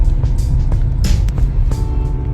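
Continuous rumble of heavy road traffic on the NH48 highway toward Delhi, a dense close-up drone of car and truck engines with a few passing whooshes and occasional tonal hums, no speech.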